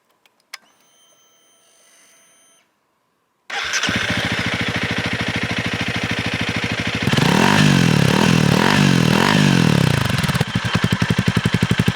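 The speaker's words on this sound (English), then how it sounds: "this is a Honda CRF 300L Dual Sport motorcycle" A Honda CRF 300L 286 cc dual sport motorcycle engine starts after a few quiet clicks, then runs loud and close at a steady idle, with a few blips of revs partway through.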